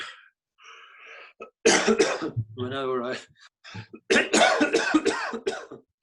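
Harsh coughing and throat-clearing bursts come close to the mic, mixed with a drawn-out vocal sound and some speech.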